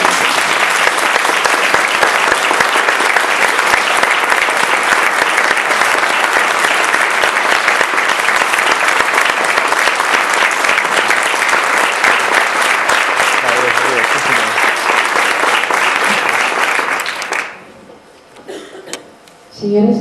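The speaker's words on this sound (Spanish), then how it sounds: "solamente se me ocurre ofrecerle un nuevo aplauso que creo que lo merece toda la gente" An audience at a talk on the Girona Kabbalist Nachmanides gives sustained, dense applause for Rafa Garzón that holds steady and loud for about seventeen seconds, then breaks off abruptly into near quiet with a few scattered sounds.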